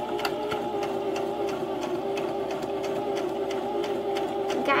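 A sewing machine stitches a small crossbody bag, running as a steady mechanical hum broken by rapid, regular needle ticks, close and fairly quiet.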